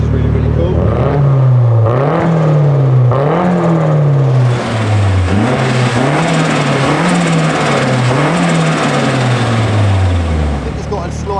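A Nissan S15's engine with a sticking lifter idles and revs in repeated rising-and-falling swells, with a deep uneven knocking beneath, up close and loud.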